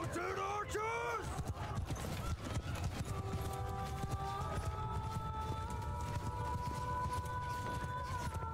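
Horses galloping in Mount & Blade II: Bannerlord as mounted archers ride, a steady rumble of hooves with whinnies and battle noise, under loud voices of talk.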